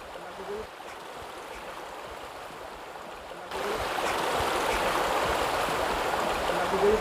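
A river current runs over rocks near Devil's Gate Canyon on the way to Mount Akhun, a steady rushing wash that grows noticeably louder and fuller about halfway through.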